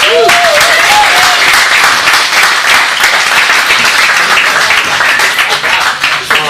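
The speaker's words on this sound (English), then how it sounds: "Give it up for the one and only Daniel Sanker, everybody." Loud audience applause and cheering fill a comedy club, a dense roar of clapping that holds steady before tapering slightly.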